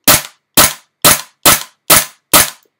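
A GHK G5 gas blowback airsoft rifle fires six sharp semi-automatic shots close up, each a crisp crack with a short mechanical snap, spaced roughly half a second apart, alone without talk.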